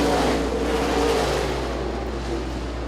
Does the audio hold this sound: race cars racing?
yes